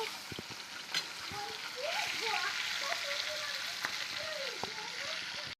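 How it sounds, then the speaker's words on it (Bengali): Bitter gourd fries with onions in a pan, a soft continuous sizzle with occasional clinks and scrapes, while tonal whistling or chirping sounds drift faintly in the background. "এখানে করলাগুলো ভাজা হচ্ছে"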